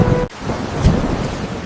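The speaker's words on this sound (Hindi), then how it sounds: "ये बारिश तो रुकने का नाम ही नहीं ले रही" Heavy rain falling with thunder, a low rumbling roll over a dense hiss of downpour, loud and steady with one deep boom standing out.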